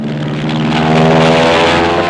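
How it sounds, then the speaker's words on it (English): Grumman F7F Tigercat twin-engine fighter bomber with double Wasp engines flying in 1945 footage, a loud, steady droning propeller roar with a throbbing engine hum, close and continuous, without talk. "The F-7F, known as the TIGERCAT, a new twin-engine fighter bomber."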